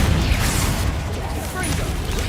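A Confringo spell blast fired in the Hogwarts Legacy video game, a dense booming burst with a rumbling low end that holds for a couple of seconds amid loud, busy combat noise.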